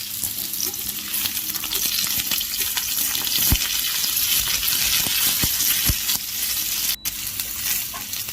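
Gooseberry pieces and chopped green chili frying in hot oil, a continuous loud sizzle with occasional stirring clicks throughout.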